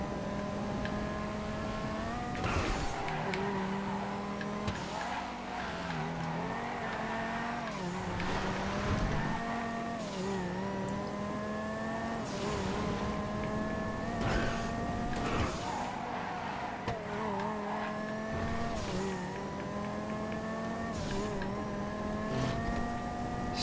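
Banshee sports car engine in GTA V on FiveM, revving loud and steady with repeated gear shifts and rising pitch sweeps, tire squeal now and then during a race.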